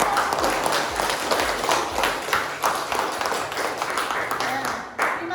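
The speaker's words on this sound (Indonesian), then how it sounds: "Beri tepuk tangan dulu untuk kelompok" A classroom group of students gives a short round of clapping, steady and dense throughout, with some voices mixed in.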